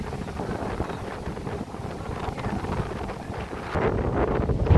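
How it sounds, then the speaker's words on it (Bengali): Strong wind on Chandranath Hill, Sitakunda, Bangladesh, buffets the microphone in a steady, rumbling roar that swells louder toward the end. "অনেক বাতাস অনেক আরাম"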